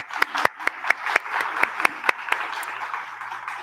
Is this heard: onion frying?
no